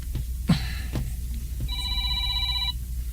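A cellphone gives one clear electronic ringing tone lasting about a second, heard nearby after a few soft taps and clicks as a call is placed.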